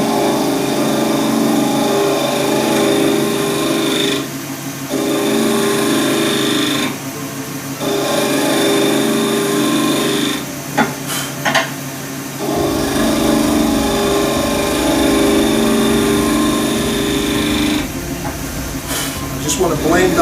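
A wood lathe spins a hybrid acrylic and burl shaving brush blank, with a steady loud motor drone and cutting noise that stops briefly several times, and a voice speaks between passes.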